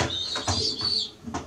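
Racing pigeons of a Jansen-derived line coo inside a loft in a few short, low, throaty bursts over a faint background hiss.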